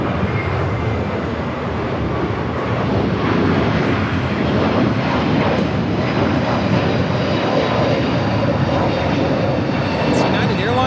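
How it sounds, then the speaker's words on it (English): A United Airlines Airbus A321neo jet takes off from Los Angeles airport, its engines a loud, steady roar that holds for the whole stretch, with faint voices underneath. "It's United Airlines 2487 taking off to Chicago on the A321 Neo"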